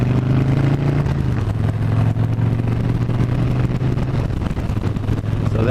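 Motorcycle pulling away from a stop into a right turn, its engine loud and close with a steady low drone and a pitch shift as it accelerates, with no speech.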